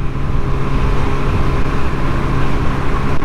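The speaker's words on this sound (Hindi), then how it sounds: "क्या मस्त आवाज आ रही है बाइक स्कूटी में से भी" A scooter engine runs steadily with a low, rumbling drone, close and loud, with no noticeable revving or speech.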